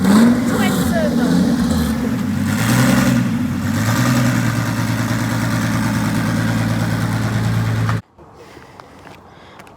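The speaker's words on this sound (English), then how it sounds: "This is my V12 twin turbo Hilux." A twin-turbo 1GZ-FE V12 swapped into a Toyota Hilux idles and revs up close, its deep rumble rising and falling for several seconds before cutting off abruptly, leaving faint background noise.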